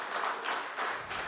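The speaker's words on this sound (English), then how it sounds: "Clap for him. Applause." Audience applause welcoming a guest speaker at an educators' master class, a broadband patter of clapping in a few swelling bursts, moderately distant with no talk over it.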